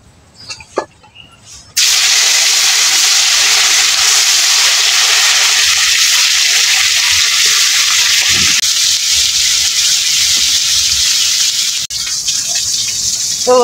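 Fish sizzles in hot oil, a loud, steady frying hiss that starts abruptly after a few soft clinks and holds evenly to the end.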